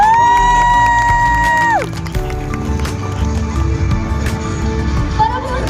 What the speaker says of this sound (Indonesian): boleh dong kasih semangat tepuk tangannya